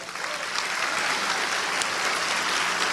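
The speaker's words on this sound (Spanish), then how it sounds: "Un aplauso a Cristo." A crowd at a Christian church sermon applauding steadily, a thick wash of clapping that swells slightly and holds at a strong level.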